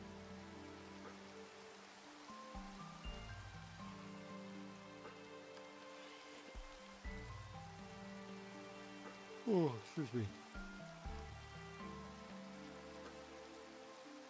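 Rain falls in Minecraft as a steady, soft patter that runs through the whole stretch, with game music tones and a brief spoken voice layered over it.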